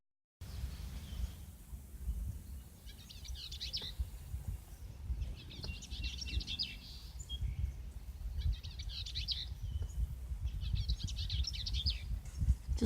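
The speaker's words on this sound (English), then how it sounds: "Just listening to these amazing birds." Birds sing outdoors in early spring, their bright chirping phrases coming in repeated bursts at a moderate distance over a steady low rumble of background noise.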